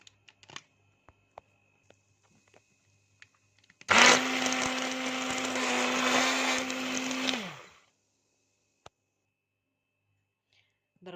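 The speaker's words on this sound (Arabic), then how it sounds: "جبت الهاند بلندر، هضرب كل المكونات بالهاند بلندر" A hand blender whirs loudly for about four seconds mixing chocolate cake batter with a steady motor hum, then winds down, framed by scattered clicks and handling noises.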